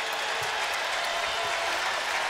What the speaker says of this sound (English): the crowd encouraging them to get one more stop before the half